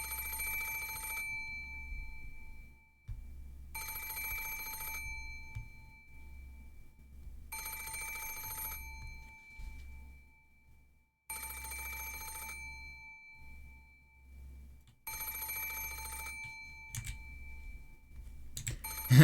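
A telephone in the Umineko visual novel rings incessantly, five bright electronic bursts of about a second each separated by silent gaps of a few seconds, loud and close, alone with faint clicks near the end.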